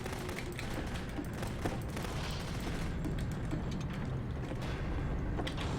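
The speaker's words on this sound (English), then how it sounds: "Remember, you can click to fire the gun." Rapid, dense gunfire from a weapon fired in the video game The Beginner's Guide, a continuous loud barrage with no pauses.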